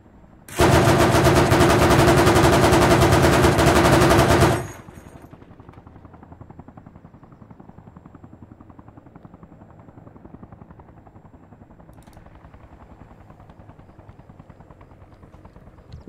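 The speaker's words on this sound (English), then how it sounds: "Well, I guess I killed that helicopter." A loud burst of rapid gunfire and helicopter rotor noise in the video game Arma Reforger for about four seconds, then a steady low helicopter drone continues alone.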